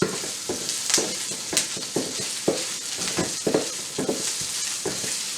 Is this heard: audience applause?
no